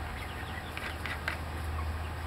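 Two-month-old chickens cluck softly and intermittently against a steady low hum and hiss, heard from nearby with no talking.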